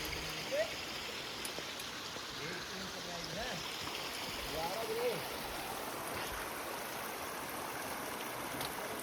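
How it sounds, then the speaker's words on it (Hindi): Water rushes steadily down a mountain stream and small waterfall on a snowy Himalayan trek to Kedarkantha, a broad, continuous wash that carries on throughout, with faint birdlike chirps and scattered background noise on top. "झरना है।"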